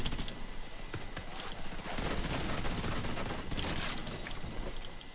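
In The Division 2, dense bursts of gunfire crackle in rapid, overlapping volleys for the whole stretch, loud and close, with no speech over them.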